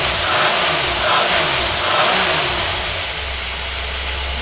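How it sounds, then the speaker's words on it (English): Engine fitted with a Richard Carter single-barrel carburetor, running on a dyno that is not engaged, revs up in a few loud surges, then settles back toward a steady drone. "we're gonna rev it up a couple times."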